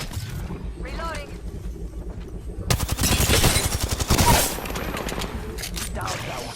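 Dense, rapid gunfire in the Apex Legends video game on PS4 erupts loud and close for about two seconds of overlapping bursts, then trails off, with a short voice heard just before.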